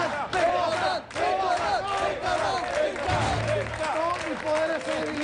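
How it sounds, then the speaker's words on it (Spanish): An audience at a comedy show applauds and cheers loudly, a dense crowd roar with shouting voices and clapping that dips briefly and then carries on. "cuando lo aplaudimos, se debilita"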